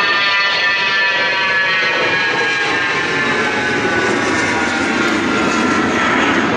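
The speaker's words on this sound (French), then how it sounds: "là c'est des jets privés" A private jet near an airfield roars overhead, a loud, sustained jet engine noise with a broad whine that stays constant and close throughout.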